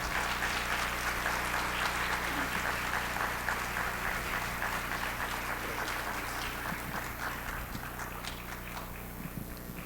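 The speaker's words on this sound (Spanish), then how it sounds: "aprovechamos el momento para recibir con un calurosísimo aplauso" Warm audience applause greets a speaker at a religious gathering, dense and steady clapping filling the whole stretch and easing only slightly toward the end.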